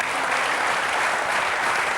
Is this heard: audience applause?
yes